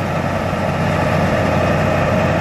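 An Onan Marquis 7000 generator in a Bounder motorhome runs with a newly repaired exhaust, giving a steady, loud, low engine drone that holds constant throughout with no talking.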